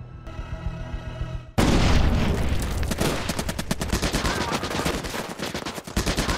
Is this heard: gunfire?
yes